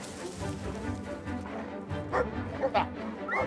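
Dog barking in Brothers: A Tale of Two Sons Remake, a few short yips and barks popping up under an excited person talking over game sounds.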